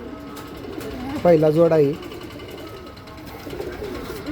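Pigeons for sale, a super-quality breeding pair, give a loud, close, harmonic coo lasting under a second, with people talking in Marathi before and after.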